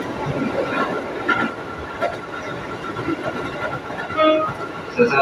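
Commuter train 667B on the Yogya line rumbles steadily from inside the carriage, with faint rail clatter and a voice announcement heard over the ride.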